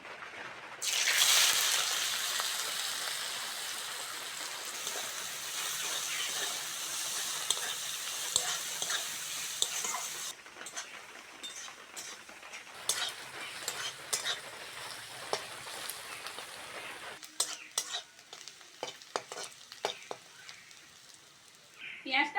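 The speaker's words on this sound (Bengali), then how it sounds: "ওই তেলের মধ্যে কাঁচা লঙ্কা আর পেঁয়াজ কুচিটা দিয়ে দেবো" Green chillies and chopped onion hitting hot oil: a loud burst of sizzling that settles into steady frying with stirring scrapes and clatter, a voice talking intermittently over it.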